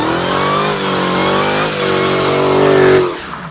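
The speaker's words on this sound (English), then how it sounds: "Just listen to what a Hellcat sounds like." Dodge Challenger Hellcat V8 revs loud and close, a sustained throaty roar that climbs in pitch toward the end before dropping off abruptly.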